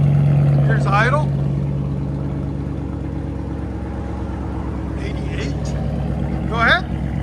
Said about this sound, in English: Now it's got a nice idle to it. It's loud. Here's idle.